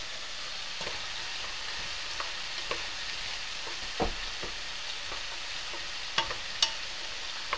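Salted and peppered vegetables fry in a pan on a back burner, a steady close sizzle with occasional stirring clicks and scrapes over it, no talking.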